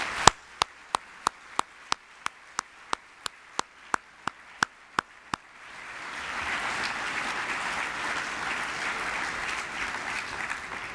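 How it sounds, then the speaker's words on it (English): An audience at an awards dinner honoring Mark Janus begins with a dozen sharp, evenly spaced single claps, then swells into a broad, sustained round of applause that continues to the end. "Let's give him a round of applause."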